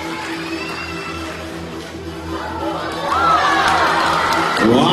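An audience at a stage magic show cheers and shouts, with children's voices among them, building louder toward the end amid ongoing crowd noise and some talk.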